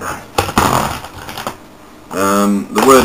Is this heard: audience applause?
no